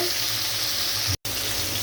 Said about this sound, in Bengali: মাছটা এক পিঠ উল্টে দিয়েছি, আরেক পিঠ আরও কিছুক্ষণ ভেজে নিতে হবে।